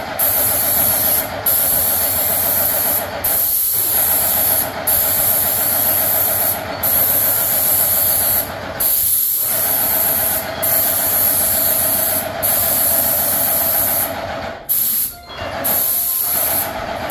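An airless paint sprayer lays Behr i300 dead flat paint onto a ceiling in a loud, continuous spray hiss broken by short regular pauses as the trigger is released, several times over, with no talk.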